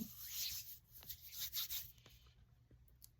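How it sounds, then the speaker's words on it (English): Hands rubbing together to work leftover cuticle oil into the skin, a soft close dry swishing friction in a few brief strokes, fading quieter toward the end, with no talking. "And then whatever I have left on my hands, I just kind of do a rub."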